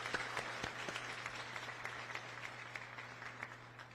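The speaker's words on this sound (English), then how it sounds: "we'll give FKO a round of applause" Graduation audience applauding at a learning academy ceremony, a steady wash of clapping held at moderate distance for the whole stretch, fairly faint and even, with no voices over it.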